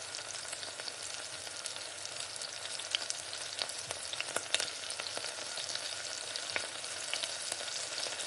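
Onions and green chillies sautéing in a pan for goat trotter paya curry, a constant bright close sizzle with faint scattered ticks of stirring, no voices.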